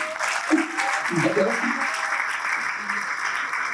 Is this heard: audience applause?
yes